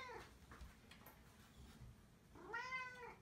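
Cat purring softly with a low rumble, then giving one clear, rising meow near the end, close and faint.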